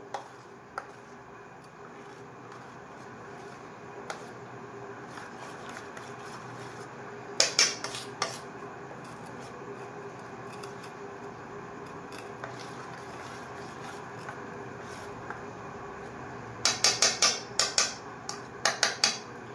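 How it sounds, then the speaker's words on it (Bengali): A spoon clinks against a bowl while bhang drink ingredients are mixed with butterscotch ice cream for Holi. A faint steady background is broken by two short bursts of rapid metallic clinks. "আমি এটাকে মিশিয়ে নিচ্ছি সবগুলো একসাথে"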